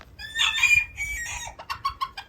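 Chickens, including a white-crested Polish breed, cluck and crow in a pen at a cheese theme park in Imsil, Korea, with loud overlapping high calls and short clucks close by.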